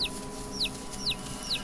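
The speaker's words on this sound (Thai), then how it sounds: "ได้ยินเสียงจิ๊บจิ๊บจิ๊บจิ๊บ" A chick in the farm horror game The Cursed Farm chirps four times, each a short, high, bright peep at an even pace over a low, steady background hum.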